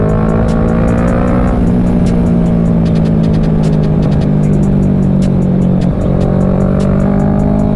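A Kawasaki Ninja 650 motorcycle engine drones loud and close as it rides past, holding a steady tone with small shifts in pitch, with faint ticking on top.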